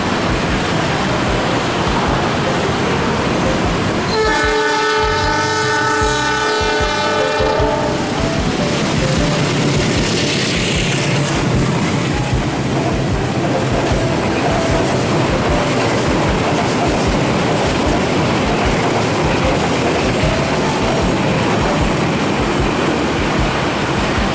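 A train rumbles past on Jalan Ahmad Yani in Surabaya, Indonesia, with rhythmic clickety-clack from the wagons over steady traffic noise, and a horn sounds briefly early on.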